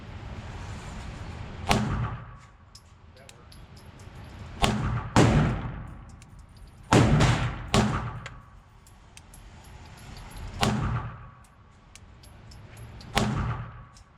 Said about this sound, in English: I'm shooting a little low.